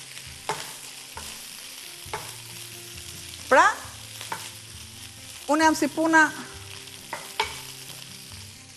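Green beans with rice and tomato fry in a pan with a continuous sizzle, while a spoon scrapes and clacks through the stirring in scattered knocks; someone speaks briefly over the cooking.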